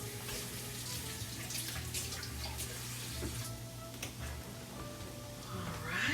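Tap water runs steadily over potatoes being rinsed in a kitchen sink, a continuous splashing hiss under a low background hum, with small knocks of handling near the end.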